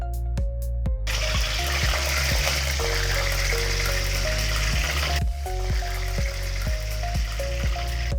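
Oil hisses and sizzles steadily in a frying pan while making mushroom chilli, a loud continuous close-up crackle with rhythmic low thumps underneath throughout.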